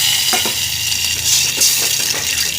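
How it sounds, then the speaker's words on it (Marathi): Water goes into hot, crackling ghee for a fig kheer and sets off a loud, close, hissing sizzle with scattered pops and spatters throughout. "थोडं तडतड झालं तुपामध्ये की आपण यामध्ये थोडं हे बघा तडतडते आणि यामध्ये आपण थोडं पाणी घालूया"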